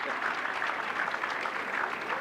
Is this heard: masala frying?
no